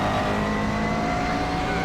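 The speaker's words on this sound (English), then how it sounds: "We want to be back down to second gear, low second gear. Feed it through and then back on the gas." A McLaren MP4-12C GT3 race car accelerates hard out of a corner at Spa, its engine a loud, continuous close-up roar heard from on board and steady over the short stretch, with no talking.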